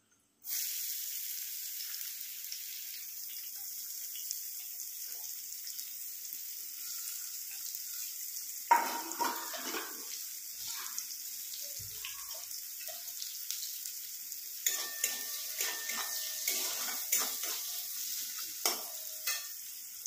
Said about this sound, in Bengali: এবার তেলেতে পেঁয়াজ দিয়ে দেবো